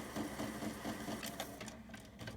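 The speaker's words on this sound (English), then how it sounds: "Wow, that is one loud printer." A loud printer prints a card, producing a rapid, rhythmic mechanical chatter of repeated clicks and whirs close by, with a brief lighter stretch near the end.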